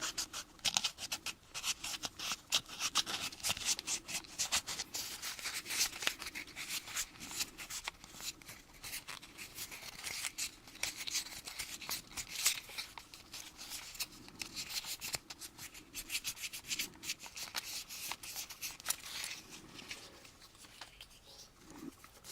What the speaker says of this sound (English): Now let's just give her a little nice sandpaper.